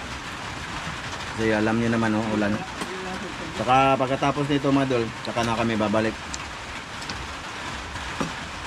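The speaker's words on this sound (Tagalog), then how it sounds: "Kasi alam niyo naman, oh, ulan." Rain falls steadily outdoors on a day of constant rain at a hut, a continuous broadband patter under someone talking clearly in the middle, with the rain alone before and after.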